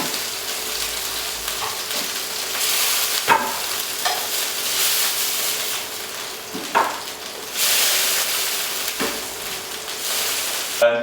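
Steady sizzling and spitting of sausages frying in hot fat, continuous and fairly loud, with occasional sharp crackles and a few clinks of utensils.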